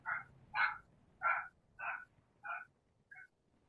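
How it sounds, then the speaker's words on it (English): A dog barks six times in a steady, evenly spaced series, each bark short and sharp, the last one softer and clipped, heard alone at moderate distance with no voices. "My dog stopped barking."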